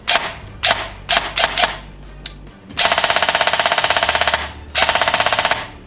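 An airsoft gun with a micro switch MOSFET fires sharp, snappy single shots, then two loud rapid full-auto bursts of crisp mechanical clacks, close and alone.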